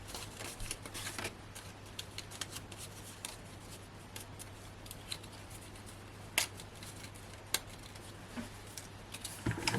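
Scissors snip through layered papercraft for a Hunkydory Santa Paws Christmas card, a few sharp isolated clicks and cuts over soft rustling paper and a steady low hum.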